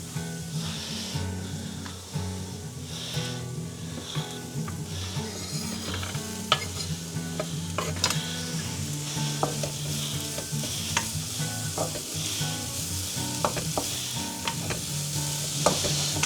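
A vegetable sauté for borscht fries and is stirred in a pan, giving a continuous close sizzle with a steady hiss and occasional utensil scrapes and taps throughout.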